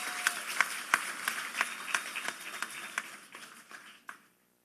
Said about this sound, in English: Give them a round of applause because they are your tribe's members.